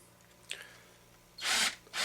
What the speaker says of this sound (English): we're just going to slowly drill it. Make sure we don't oblong the hole